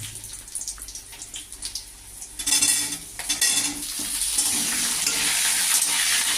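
Potatoes fry in hot oil with whole cumin seeds while a spoon stirs and scrapes the pan, a few clinks early on giving way to a loud, continuous sizzle that builds and holds.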